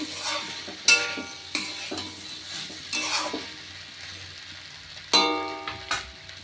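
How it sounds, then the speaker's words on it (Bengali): Fried potatoes are stirred in a pan with scraping clinks at irregular intervals over a soft sizzle, close and fairly quiet. "আলু ভাজা দেওয়ার পর এটা আমি আবার একটু নাড়াবো।"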